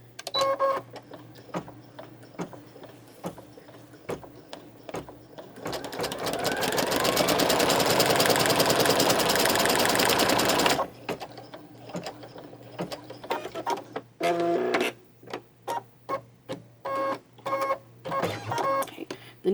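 An embroidery machine stitches a birthday badge with a loud, steady mechanical whir for several seconds, framed by rapid close ticking and clicking as the needle starts and stops.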